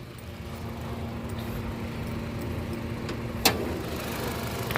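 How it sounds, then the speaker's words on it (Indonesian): A 2017 Nissan Grand Livina XV with manual transmission idles with the hood up, a steady, smooth mid-pitched hum close by, with one brief click partway through and no talk. "Nah suara mesin halus, tidak ada kendala apapun."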